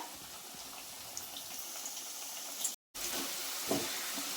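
Bitter gourd pakoda frying in hot oil, a steady broadband sizzle that runs near and continuous, broken once by a brief dropout, with a few small pops and clinks.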